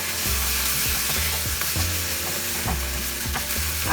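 Paneer with Italian herbs is stirred in a hot pan. A steady sizzle of frying runs throughout, broken by repeated scraping strokes of a spoon against the pan, close and fairly loud.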